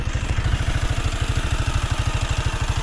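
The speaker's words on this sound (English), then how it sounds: "It seems like it idles just a little bit high." Arctic Cat Alterra 600 ATV, a 2022 base model, idling slightly high, a steady close, rapid putter with even low pulses throughout.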